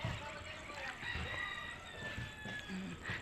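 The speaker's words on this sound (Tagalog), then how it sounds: "Doon naman po sa kabilang side, marami pong manok." Chickens on a rural farm, including a red hen, with a rooster crowing faintly in the distance amid soft clucking and outdoor background noise.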